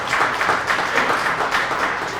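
A debate audience applauding, steady dense clapping that fills the room evenly from start to finish with no speech over it.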